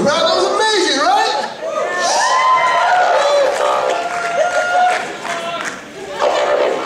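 Loud crowd cheering and whooping at a music awards show, a dense roar of many voices with shouts rising and falling throughout.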